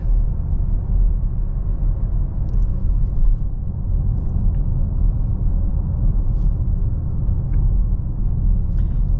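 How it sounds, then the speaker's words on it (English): Steady low road rumble and tire roar fill the cabin of a 2026 Chevy Blazer RS with full-time all-wheel drive while it cruises, holding a constant level throughout with no one speaking. "You hear quite a bit of tire noise"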